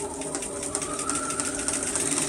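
An overlock machine runs steadily, sewing the inside leg seam of striped pyjama pants, its fast even whirring hum continuous and close with no pauses or talk.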